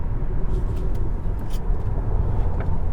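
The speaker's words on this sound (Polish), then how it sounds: "Słyszymy tylko takie delikatne szoranie opony, a to są ciasne winkle." A steady rumble from a 2023 Hyundai Kona 1.6 T-GDI 4WD with a faint scrubbing hiss from the tyres as it takes a tight corner, no talking.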